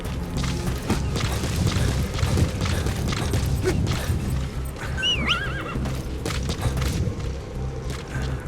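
A horse in the video game Metal Gear Solid V whinnies in a rising, wavering neigh midway, over steady clip-clop of hooves and low rumbling in-game background noise.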